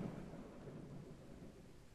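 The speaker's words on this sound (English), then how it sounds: "that lightning sound and thunder sound" Thunder from a storm in the survival game Outbreak Island rumbles low and steady under rain-like hiss, a continuous distant roll with no talk.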